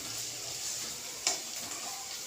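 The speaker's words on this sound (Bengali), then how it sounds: "পুরো তেলেই ভাজা।" Hyacinth beans frying in a full pan of oil give a steady, soft sizzle throughout, with one brief sharper crackle or clink partway through, close and fairly quiet with no talk.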